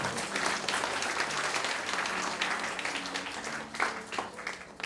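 Audience at the WCPM 2024 professional missions award ceremony applauds as a gold pin is presented, a full, steady clapping lasting several seconds, with a few voices faintly mixed in.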